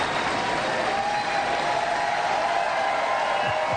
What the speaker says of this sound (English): Please, I'm going to ask you to please hold your applause.